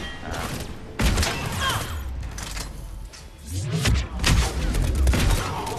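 Turret gunfire rattles through a Mass Effect 3 multiplayer match, coming as repeated bursts with heavy thumps and booms and a steady clatter of game action.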